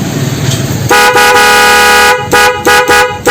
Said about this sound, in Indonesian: Seperti itu untuk suara klakson Denso nya.